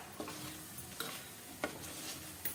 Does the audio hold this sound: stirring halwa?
yes